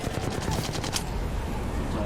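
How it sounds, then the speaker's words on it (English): Rapid automatic fire from the R-301 rifle in the video game Apex Legends rings out as a short, dense burst of shots, fairly loud and close, then trails off into a muffled background. "for any of you who play Apex, we got the 301 here. We know what kind of recoil that has."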